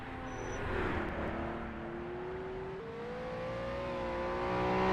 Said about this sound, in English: Jake braking for the Nook entirely on the rear brakes.